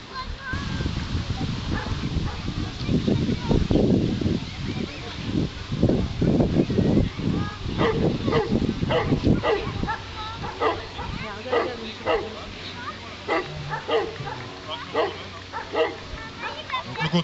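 A young three-year-old gendarmerie police dog barks and yips in a rapid series of close, sharp barks, with human voices mixed in.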